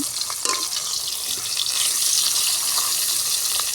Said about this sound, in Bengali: এবার উল্টে পাল্টে করে দুপাশেই ভালো করে ভেজে নেব